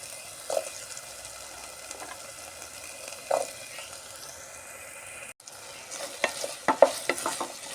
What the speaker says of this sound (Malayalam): വെണ്ടക്കൻ്റെ ആ വഴുവഴുപ്പൊന്ന് പോകുന്ന വരെ വറുത്തെടുക്കുക